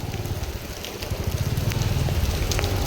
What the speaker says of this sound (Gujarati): વરસાદ ચાલુ થઈ ગયો મજબૂત